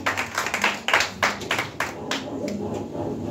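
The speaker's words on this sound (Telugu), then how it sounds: "దేవుని నామమును మహిమపరుస్తూ ఒకసారి చప్పట్లు కొడుతుంది దైవజనుల్ని మనము" Church congregation at a pastors' fellowship gathering in Kuwait claps together in worship, a dense crowd of hands swelling in uneven bursts, then settling into steadier applause over a faint background murmur.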